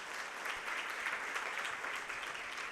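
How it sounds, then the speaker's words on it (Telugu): A crowd applauds at a Catholic church inauguration festival in a village near Eluru, a steady, dense wash of clapping heard from some distance, continuous throughout. "గట్టిగా చప్పట్లు కొడదాం"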